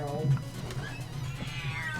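A cat gives a short, low meow near the start, followed by quieter background noise.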